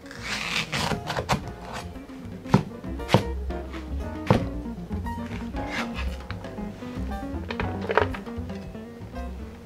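A knife cuts green onion (scallion) on a cutting board with a series of close, irregular thunking chops, some sharper and louder than others, over a faint background hum.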